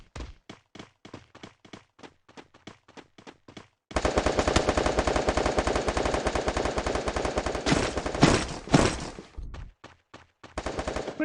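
Gunfire from a shooter video game: a run of separate single shots, then a long dense burst of rapid automatic fire, then a few more single shots, all close and loud with no talking.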